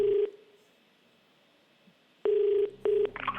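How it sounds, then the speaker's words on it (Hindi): Telephone keypad dialing tones on a game-show phone call, one short beep, a long pause, then two more beeps followed by a brief tone, clear and alone. "फोन लगाया जाए कंप्यूटर जी"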